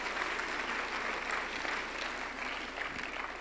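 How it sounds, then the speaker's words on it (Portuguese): A church congregation gives a round of applause, a steady, fairly faint wash of many hands clapping heard at a distance, with no talk over it. "Uma salva de palmas para ele mais uma vez."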